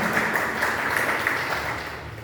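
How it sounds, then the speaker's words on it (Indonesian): Steady, dense clapping from an audience at a school training session fills the whole stretch, even and sustained without pauses. "Tepuk tangan buat Mbak Zian."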